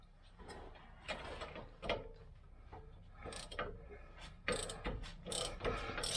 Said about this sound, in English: We've got a spanner on.